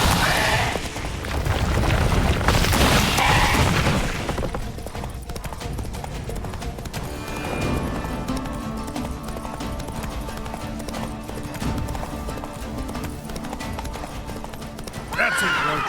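Roach, the horse in The Witcher 3, gallops with loud continuous clip-clopping hooves and a whinny up front, then keeps running under a dense bed of game music and ambient rumble.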